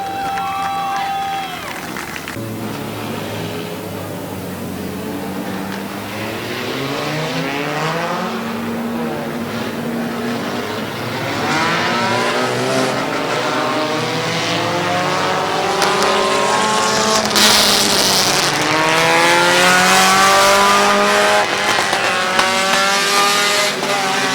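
Race cars idle and rev as they pull up to the line at Midvale Speedway, a steady, close engine drone that builds and swells in pitch through the clip with no talk over it.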